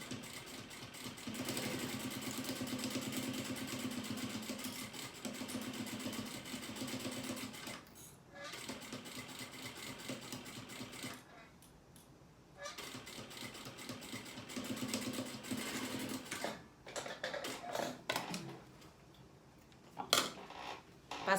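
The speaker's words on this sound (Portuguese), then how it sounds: "vamos passar outra costurinha aqui com pé de máquina, retrocesso sempre no início e no final" A sewing machine sews a seam using its presser foot, running in long, steady rattling stretches broken by brief pauses, heard close with faint handling sounds between runs.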